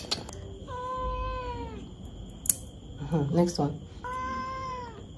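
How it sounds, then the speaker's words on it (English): A cat gives drawn-out, wavering meows while its toenails are being trimmed, several calls close to the microphone, as a person speaks briefly between them and handling noises rustle. "I literally just finished cutting my cat toenails"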